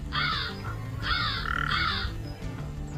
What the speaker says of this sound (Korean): 날라든 까마귀 뭐라고 자기 혼자 중얼중얼대고 있습니다